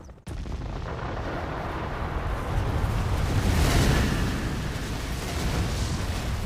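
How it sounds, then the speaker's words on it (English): A gigantic explosion sound effect for the 1908 Tunguska event in Siberia: a sudden loud blast that swells into a long, sustained rumbling roar, with no voices. "A gigantic explosion."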